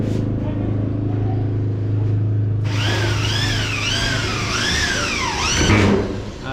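A power drill drives screws into quarter-inch cement board on a second-floor build. A low steady hum gives way to several close, loud whirring bursts that rise and fall in pitch, ending with a harsher grind.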